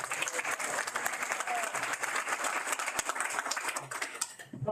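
Audience applause at a Pride Month proclamation signing, a steady stretch of many hands clapping with crisp individual claps standing out, continuing for several seconds before tapering at the end.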